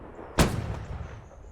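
A single cannon shot from the Holdfast naval battle game: one sharp, loud boom that rings out and fades into a rumbling tail over about a second.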